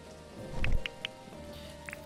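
Rain in the farming video game Dinkum patters softly and steadily, with a few scattered louder drops standing out over the even wash.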